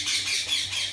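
A pet bird named Titu squawks in the background, a couple of harsh, rasping calls at moderate distance over a quiet room.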